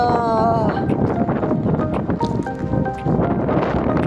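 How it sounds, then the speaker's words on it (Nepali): Strong wind blows outdoors at Bharsha Daurali, a continuous loud buffeting rush across the microphone with a brief dip midway, while people talk faintly beneath it. "हावा चाहिँ डरै लाग्दो रहेछ"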